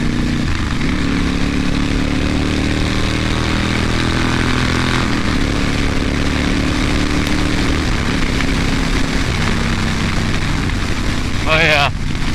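A 2010 Honda Fury chopper motorcycle engine rumbles loud and close, its low drone rising and falling as it accelerates on a first ride.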